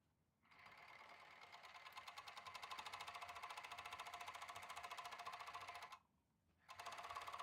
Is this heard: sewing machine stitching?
yes